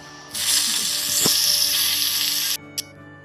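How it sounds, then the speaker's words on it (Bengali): Potatoes sautéing with cabbage in a pan, a loud bright sizzle that bursts up, holds for about two seconds with a stir in the middle, then cuts off, leaving a brief final hiss. "বাঁধাকপির সঙ্গে এবার ভালো করে ওটাকে কষিয়ে নিচ্ছি আলুগুলোকে"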